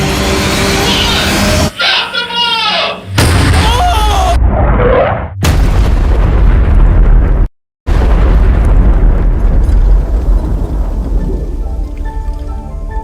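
A pyrotechnic bomb blast sets off a loud, broadband roar that fills the clip, cut by brief sudden dropouts, then rumbles on and slowly thins out; no speech is heard.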